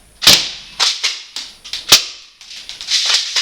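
About eight sharp, loud shots from a Mossberg spring airsoft shotgun and pistol kit, fired close by in an uneven rhythm, each a snappy crack with a short rattling tail.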